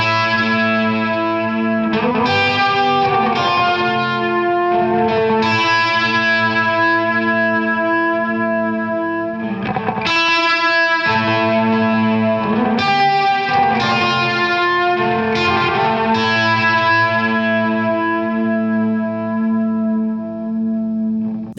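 Electric guitar chords through an Alexander Forget Me Not multi-head stereo delay pedal ring out with a wavering, shimmering modulation and trailing echoes, sustained and dreamy, with no voices.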